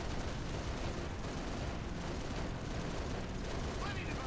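Halo video game gunfire during a Falcon mission in New Alexandria, a dense, continuous roar of shots and explosions filling the whole stretch at steady loudness.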